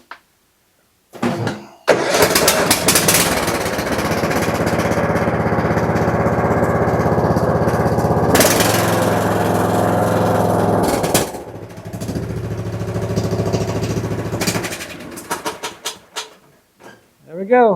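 A Kohler Courage 21 hp engine cranks briefly, then fires and runs steadily at a loud, raw exhaust roar, its pitch shifting slightly before it cuts off near the end.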